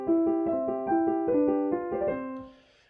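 Piano plays a brief excerpt from the first movement of Mozart's K545 sonata: a clear, bright melody over steady broken-chord accompaniment, solo and close, fading out as the notes end.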